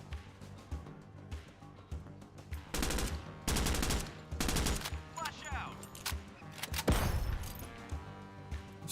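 A video game firefight inside a building, with bursts of rapid gunfire and sharp bangs, including a flashbang going off, in several loud clusters over a low rumbling background.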